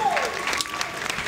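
Applause bursts out on a talk-style morning show, a short spell of clapping mixed with voices and a brief sliding tone, steady and moderately loud throughout.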